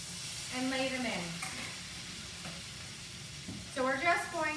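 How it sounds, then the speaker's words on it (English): Perogies pan frying in brown butter give a soft, steady sizzle with faint stirring and scraping, while a person's voice carries intermittently over the cooking. "So we're just going to cook them we're pan frying them"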